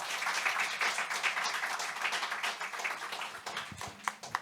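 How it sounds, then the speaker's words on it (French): Audience applause after a French-language tech startup panel on legal advice, a dense, steady wash of many hands clapping that carries on for several seconds before thinning toward the end, with a few sharper claps standing out. "Je pense que vous pouvez applaudir nos experts et expertes."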